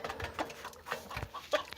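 A large rooster clucking on a farm, several short throaty clucks in an uneven rhythm, close and moderately loud with no talking.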